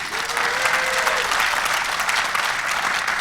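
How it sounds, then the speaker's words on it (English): An audience at a live summit at sea bursts into applause, a dense, loud crowd clapping that swells quickly and holds steady throughout. "By show of applause, did you wish you'd learned this stuff a little early in your life?"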